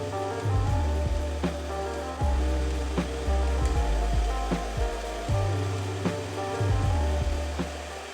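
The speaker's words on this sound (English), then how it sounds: "I didn't want to try to talk while the blow dryer was on" A blow dryer fitted with a diffuser runs on its low heat setting to dry wavy hair, giving a steady, close, broadband roar with a low hum and repeated soft bumps as it is moved through the hair.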